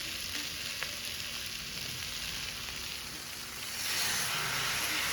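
Water rinsed from a masala plate hits a pan of frying capsicum sabzi with cashews, setting off a loud, steady hiss and sizzle that swells near the end as the mixture is stirred.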